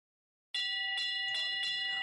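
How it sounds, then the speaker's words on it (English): A bell rings at an indoor showjumping competition, four clear metallic strikes in a steady rhythm, each ringing on briefly before the next, fairly close and loud with no talk over it. "Well, the bell sounds now."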